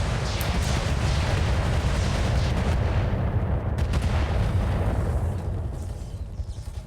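A rotary artillery cannon in a video game fires, producing dense, continuous heavy booms and rumbling blasts that roll on loudly for several seconds before easing off slightly.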